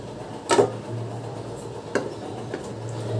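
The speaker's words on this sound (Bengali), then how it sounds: "এই টমেটো তিনটে আমি কুকারে দিয়ে দিলাম।" Three large cut tomatoes dropped into a pressure cooker, heard as two soft, close thuds about a second and a half apart, with a faint knock just after, in a quiet kitchen.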